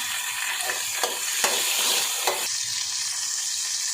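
Dried red chillies, small onions and curry leaves frying in oil for a village-style chicken curry, a loud steady sizzle with a few sharp scrapes of stirring that settles into an even hiss, with no talk.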